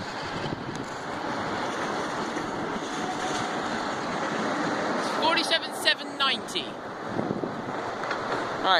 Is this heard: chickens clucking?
no